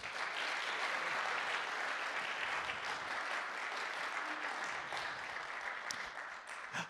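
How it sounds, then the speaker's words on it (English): An audience applauds continuously at a mainstage book club music event, a dense steady roar of many hands clapping with no talk over it. "Clap for that."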